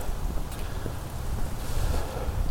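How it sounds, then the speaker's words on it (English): Wind gusting outdoors on a cold day at Lake Fayetteville, a steady low roar rumbling against the microphone with slight swells, no talking. "it's a cold and windy day here at Lake Fayetteville"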